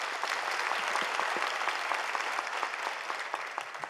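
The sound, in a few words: audience applause for children and their teachers at a kirtan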